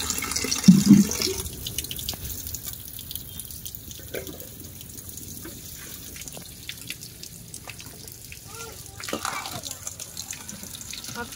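Water splashes and runs as mud is washed off freshly caught fish, a close, faint trickling and dripping, busiest near the start and trailing into quieter spatters, with soft voices in the background.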